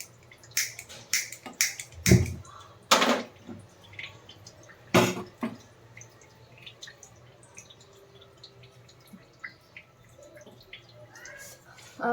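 A gas stove is switched on before making ghee at home, with a burst of sharp, close clicks early on, then a few scattered lighter ticks against a quiet background.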